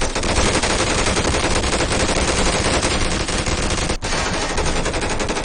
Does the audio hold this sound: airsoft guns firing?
yes